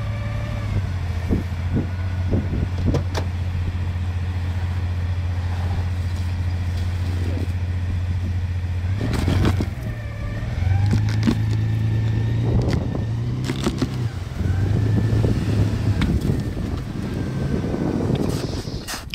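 A Toyota Land Cruiser FJ80 engine drones low and steady as the vehicle works its way out of deep Siberian snow, the pitch rising and falling with throttle, with wind buffeting and occasional knocks over the top.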